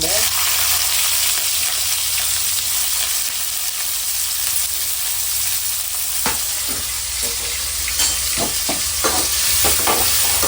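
Onions sautéing with cinnamon, cloves and cardamom in a pan for mutton kurma, a steady loud sizzle running throughout, with a few brief stirring clicks and scrapes toward the end.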